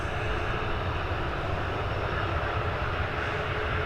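Aircraft engine roaring steadily at Dublin Airport, a loud, sustained broadband drone as a plane powers up for takeoff, with no voices over it.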